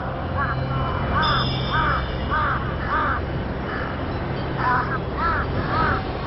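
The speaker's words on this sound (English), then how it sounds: "In Bhutan, the raven is the incarnation of the protective deity Yeshi Gonpo" A raven calling near a monastery in Bhutan, repeated hoarse croaking caws in a loose rhythm at moderate distance over a steady low rumble, with a person talking through it.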